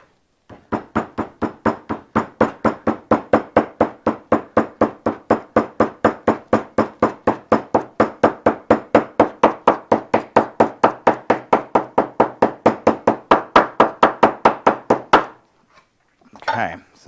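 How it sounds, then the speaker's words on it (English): A hammer pounds a metal sheet on a table during motorcycle exhaust patching. Dozens of loud, evenly spaced blows land at about four per second, alone and close by, then stop, and one brief knock follows. "Reach over here and grab a hammer. Oh, we're gonna pound on the table for the first time."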